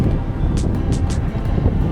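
Strong wind buffeting the microphone while parasailing over the sea at Cox's Bazar beach, a steady loud low roar with a few brief higher gusts.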